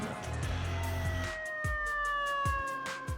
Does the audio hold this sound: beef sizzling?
no